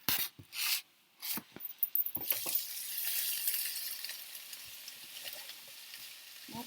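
Onions frying in a pan for a stir fry, a steady hiss and sizzle with scraping and stirring clatters near the start, no talk.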